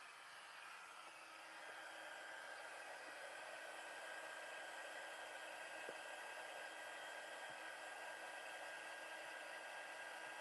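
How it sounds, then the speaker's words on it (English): An embossing heat tool heat-setting stamping powder on a card gives a steady, quiet blowing whoosh that rises slightly after starting and holds constant throughout, with no talk. "I'll just grab my heat tool and we go to number 2 and we'll heat set it"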